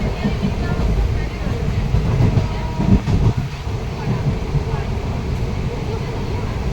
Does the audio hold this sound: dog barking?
no